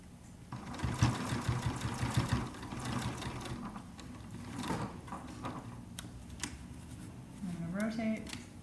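A sewing machine runs in steady bursts while stitching pleats into a cloth face mask, its motor and needle whirring up close, with a person talking over it.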